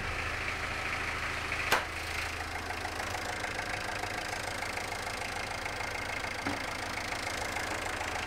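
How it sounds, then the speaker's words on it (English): A car engine idles steadily with the bonnet up during a battery check, a low continuous hum with one sharp click near the start and a faint knock later. "While the engine's still running"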